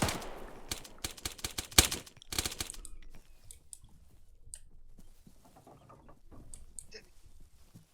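Gunfire in the Arma 3 video game, a rapid burst of sharp automatic shots at the start followed by a few scattered, fainter single cracks, with no one speaking.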